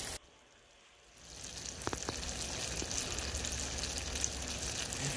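Sugar syrup for candy apples bubbling in a pot on the stove, a low steady frying-like hiss that swells in after a quiet start, with a couple of light clicks.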